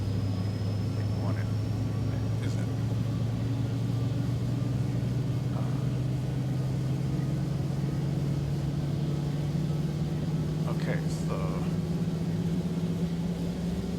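Turboprop engine of an MU-2 Marquise spooling up in the X-Plane 11 flight simulator, a steady rising drone that climbs slowly in pitch throughout, with a brief spoken word over it.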